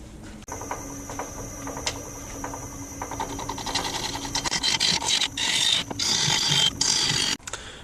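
A wood lathe turns the outside of a purpleheart and maple bowl, a steady mechanical whir and rattle with scraping tool noise growing denser and louder toward the end, close up, no talk.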